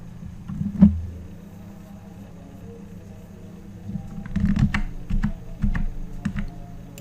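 Computer keyboard keys pressed for Photoshop shortcuts: one sharp click, a pause, then a quick burst of several close, fairly quiet key taps with no talking.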